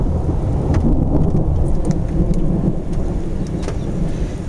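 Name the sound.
thunderstorm with thunder and rain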